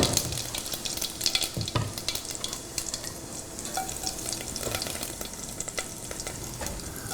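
Whole cumin seeds sizzle in hot oil in a cooking pot, a steady crackling hiss running unbroken and close throughout, with a few sharper pops and spoon taps along the way.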